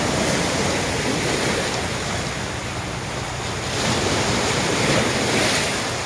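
Rough sea surf roars steadily, with waves surging and breaking and wind buffeting the microphone throughout. No voices.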